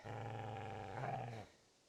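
Moska, the butcher's dog in the game Kingdom Come: Deliverance, lets out one close, low, sustained growl lasting over a second that swells slightly and then cuts off.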